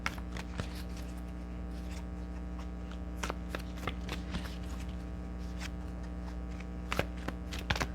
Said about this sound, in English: I'm just going to pick a card from the Archetype Cards by Carolyn Meese